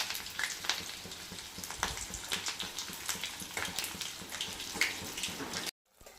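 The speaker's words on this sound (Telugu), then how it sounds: "ఇదిగోండి మనం ఆ బాగా మరిగిన ఆయిల్లో పిండి వేసుకుంటే ఇలా పొంగుతుంది" Coconut milk pongadalu batter deep-frying in well-heated oil, a busy crackling sizzle with sharp pops and bubbling bursts that runs steadily, then cuts off abruptly near the end.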